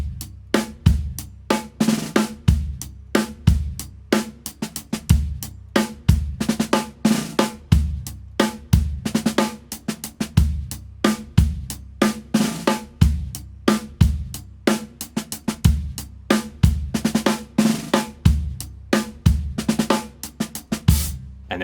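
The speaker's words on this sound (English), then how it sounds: "If I play this groove for you nice and slow," A drum kit plays the Amen break groove at a slow tempo, steady kick, snare and cymbal hits repeating in a looping pattern for about twenty seconds, close and loud with no talk.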